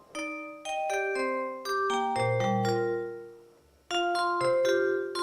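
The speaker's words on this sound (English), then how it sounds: "So what you're hearing is actually Raptor playing." Raptor synthesizer playing preset chords, a series of sustained polyphonic chords with sharp attacks and long tails, several changes in a row with a short fade near the end before a final louder chord cluster; no talking.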